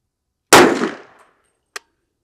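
A single sharp, loud gunshot from a short-barreled 300 Blackout rifle, a close blast with a decaying echo, followed about a second later by a small metallic clink.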